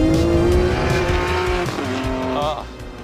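A Ferrari 599 with a front-mounted V12 drives past loud and close, its engine note holding steady and then dropping through a gear change, with a tire squeal in the middle and someone talking over it.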